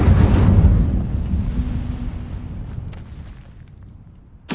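A fiery Incendio spell cast in Hogwarts Legacy, heard as a loud roaring burst of flame that surges at once and then slowly dies away over several seconds, ending with a sharp new hit.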